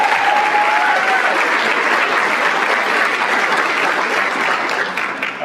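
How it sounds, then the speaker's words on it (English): An audience at a school district scholarship night claps in loud, sustained applause that fills the whole stretch and only begins to thin slightly at the very end. "Let's give a round of applause for Clarissa Lopez and Charlena Perez."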